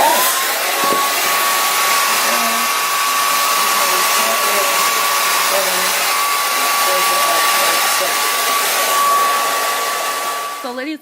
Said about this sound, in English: Then with our blow dryer, we just press off.